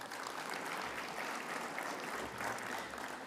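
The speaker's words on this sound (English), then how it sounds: "I think everyone should give themselves a round of applause for that." An audience at the National Māori Housing Conference 2023 applauds, with a sustained, even patter of many hands clapping throughout.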